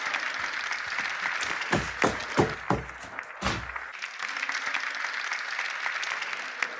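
A few separate, sharp claps stand out near the middle of the clip amid a background hum and occasional noises, with faint sounds around them.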